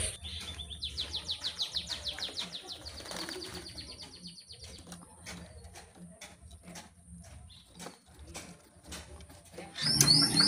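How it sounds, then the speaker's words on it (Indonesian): Pigeons at an Indonesian racing pigeon loft call and coo with soft chirps and rapid repeated notes, busy near and moderately loud, with a burst of wing-flapping near the end. "ini dia burungnya udah ngeket ya teman-teman tuh, udah giring keras ya"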